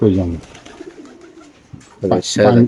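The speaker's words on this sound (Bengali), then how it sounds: "ব্লু চোখের গিরিবাস কবুতর" A blue-eyed Giribaz pigeon's soft, low cooing mixes with someone talking close by, his voice dominating the start and end.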